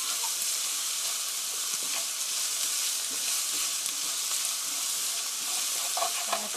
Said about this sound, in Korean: stir fry 3 minutes 3분 정도 볶아주세요.